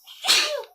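A single sharp human sneeze, close and loud, with a quick breathy onset and no talking around it.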